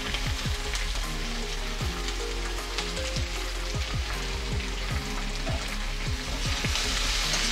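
Whole green chilies sizzle and spit in a pan of hot oil for chili chicken. A dense, even frying hiss runs the whole time, broken by frequent sharp crackles and pops.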